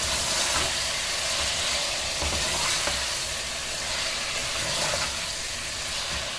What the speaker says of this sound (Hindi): जो चिकन मैरिनेट करके रखा हुआ था ये शामिल कर दूँगी। इसको भी अच्छी तरह भूनेंगे।